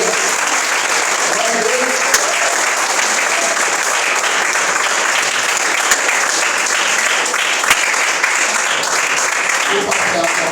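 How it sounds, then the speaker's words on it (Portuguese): A congregation in a Portuguese-speaking church claps for Jesus, a loud, sustained wash of many hands that stays steady throughout, with a few sharper claps and faint voices mixed in. "Vamos abrir palmas para Jesus."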